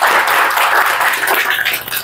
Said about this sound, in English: can we have a round of applause for her, please?